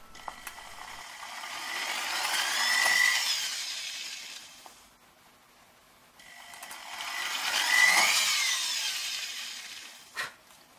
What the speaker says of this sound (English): holding my drill vertically, I can just drill each of those holes